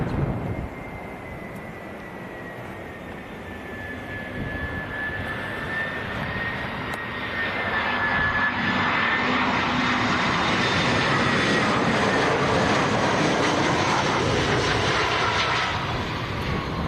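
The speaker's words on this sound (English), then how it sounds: "EasyJet about to land, Tom." An EasyJet airliner jet landing at Leeds Bradford Airport, a roaring engine whine that swells from moderate to loud as the aircraft approaches, with a high tonal whistle gliding over the rumble and no talk.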